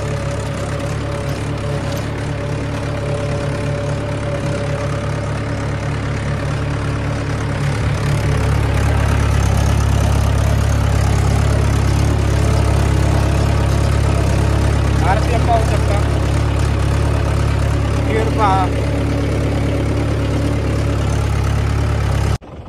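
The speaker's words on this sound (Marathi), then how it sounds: "कडक रान असल्यामुळे आपला हा जो ट्रॅक्टर आहे तर तो खूप हालत आहे" A tractor engine runs steadily and loud throughout while ploughing a hard, compacted field softened by monsoon trampling, its deep rumble swelling slightly midway with faint rattles and creaks from the implement.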